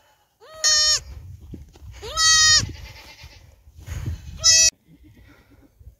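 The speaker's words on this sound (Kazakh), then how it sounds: "Мына қойлар." Sheep and goats on a farm during lambing and kidding season let out three loud, close bleats spaced a second or two apart, with quieter rustling and a faint voice between them.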